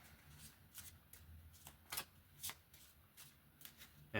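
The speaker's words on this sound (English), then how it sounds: "let's get all this shuffled back in" Playing cards shuffled by hand during a solo tabletop game, a series of quiet riffling bursts spaced irregularly, ending in a louder clack as the deck settles.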